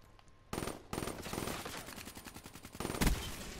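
Gunfire in Call of Duty: Black Ops III: rapid automatic bursts crackle in several loud strings, broken by short pauses, with a heavy punchy shot near the end.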